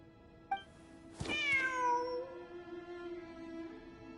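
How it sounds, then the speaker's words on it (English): A cat in a desert-themed video game gives a single clear, rising-then-falling meow with rich harmonics, preceded by a short chirp and set over a steady ambient game hum; no speech. "Wait, there it is! The cat!"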